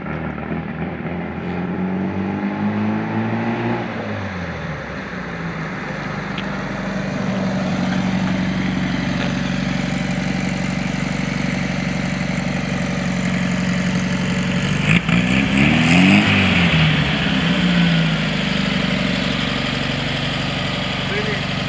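1968 Volkswagen Beetle engine with a new carburetor running steadily, a continuous close air-cooled drone that swells with a couple of brief throttle changes, with people talking briefly.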